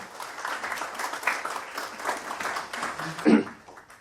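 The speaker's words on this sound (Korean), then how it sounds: "홍석현 회장님을 뜨거운 박수로 맞아주시기 바랍니다." Applause from the audience welcoming a chairman to the stage at a book launch event, a moderate, uneven patter of clapping that swells and fades over several seconds, ending with a brief louder knock.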